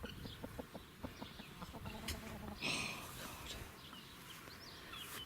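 Soft, short clucks from a rooster repeat in an irregular patter against a low, busy background, with a brief louder rustle partway through.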